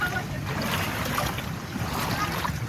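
Water rushes steadily over a check dam in a green forest, a dense continuous roar close to the microphone with no clear voices.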